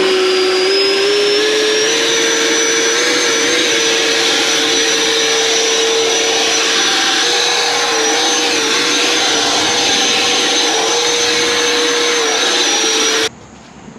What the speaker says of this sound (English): let's crank this bad boy on and do a little leaf blowing